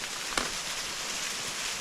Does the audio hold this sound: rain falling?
yes